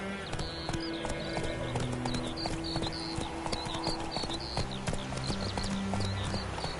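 Geralt's horse Roach galloping in The Witcher 3: Wild Hunt, with a continuous rapid clip-clop of hooves over a game soundscape and ambient music.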